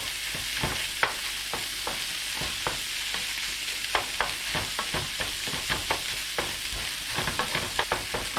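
Bitter melon and eggs stir-fried in a pan, a steady close sizzle broken by frequent scraping and clattering strokes of the spatula, with no voices.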